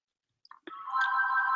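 A house phone begins to ring after a couple of faint clicks, a single steady electronic ring swelling to full loudness, close by and alone.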